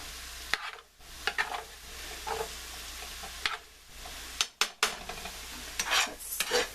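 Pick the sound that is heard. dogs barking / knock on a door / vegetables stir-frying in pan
vegetables stir-frying in pan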